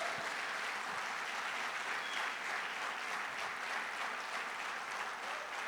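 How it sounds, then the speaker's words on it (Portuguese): Congregation applauding in a church service, a sustained even wash of many hands clapping at moderate level throughout, with no speech over it. "Dá um forte aplauso ao Senhor Jesus."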